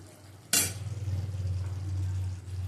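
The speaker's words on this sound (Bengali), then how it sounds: "পোস্ত দিয়ে দিলাম।" Poppy seeds are tipped into a pan of boiled potatoes, giving a sharp, brief rattling hit followed by a steady low sizzle and hum from the pan that carries on to the end.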